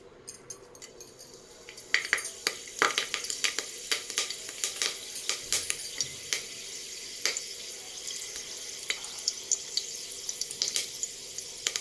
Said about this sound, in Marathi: त्याच्यामध्ये कढीपत्त्याची पानं टाकते